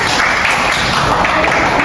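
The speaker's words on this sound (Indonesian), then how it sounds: "beri tepuk tangan tadi" Loud, dense applause from students in a classroom, steady clapping filling the whole moment without a break.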